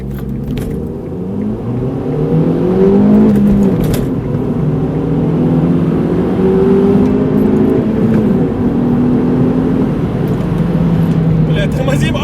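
Two cars race side by side, a Hyundai Solaris 1.6 against a supercharged Mercedes W202 2.3 Kompressor, their engines droning and rising in pitch under strain. The rumble is loud and sustained, with revs climbing and falling.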